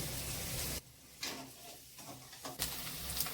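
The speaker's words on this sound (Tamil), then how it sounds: "வெங்காயம் நல்லா வதங்கிட்டோம்." Chopped onions sautéing in a pan for a soy chunk (meal maker) gravy, giving a dense, steady sizzle that drops away briefly, then returns in bursts alongside light stirring.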